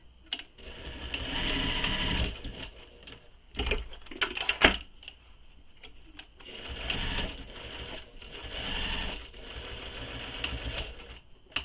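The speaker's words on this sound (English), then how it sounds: "sew all the way down, get to the next corner, sew across, back up the other side, sew across this edge" A sewing machine stitches a fabric bag in several sustained runs, its fast mechanical whir close and steady, broken by brief pauses and a few clicks between seams.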